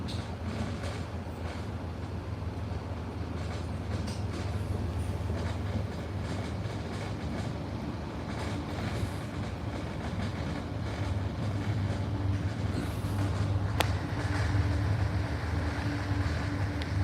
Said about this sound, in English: This train's about 6 cars long.